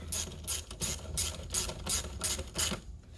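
Ratchet tightening an oil separator bracket bolt on a 2020 Ford Explorer 3.0 EcoBoost: close, rhythmic bursts of clicking, about eight even strokes, then stopping.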